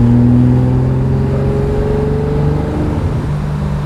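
A 1968 Ferrari 365 GT 2+2 V12 revs loud and close, its deep engine note rising and holding steady with a rich, layered drone.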